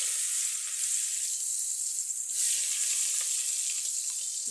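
Chopped onion frying in oil gives off a bright, continuous sizzle. The hiss stays loud and steady for the whole stretch, with a slight surge midway and only a faint scrape or two.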